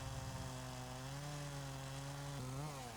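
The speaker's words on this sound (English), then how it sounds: "Using the top of his saw as a sight, he lines up and makes the face cut." A Husqvarna chainsaw cutting the face notch in a standing tree, its engine droning steadily at high revs with a slight pitch shift near the end.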